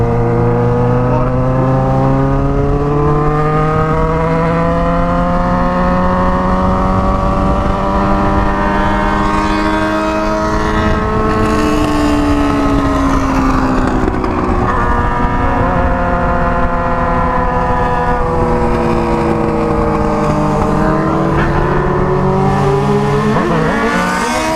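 Two motorcycles, a Honda Hornet and a Yamaha Fazer 600, rev their exhausts loudly and continuously up close, with deep, throaty engine notes rising and falling in pitch as they trade revs.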